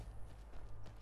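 Horse hooves clip-clop in a soft, quick rhythm in the video game Skyrim, faint and brief with no talk over them.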